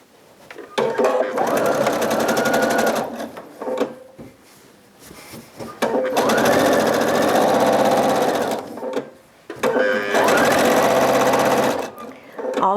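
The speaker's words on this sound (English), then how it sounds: "now stitch the two edges together all the way down to the end just like before" A sewing machine stitches the edges of quilt strips together in three long, steady, whirring bursts separated by short pauses, with a voice talking during the gaps.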